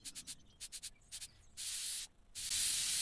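Spray painting wood in Woodwork Simulator, several short hissing spray bursts in quick succession, then two longer sustained hisses, close and fairly quiet with no talk.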